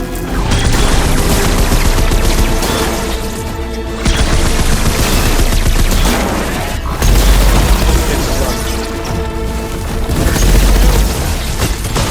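Gunfire and booms from shooting at a machine creature in the video game Horizon Forbidden West, loud continuous bursts and crashing impacts over a dense game soundtrack with voices mixed in.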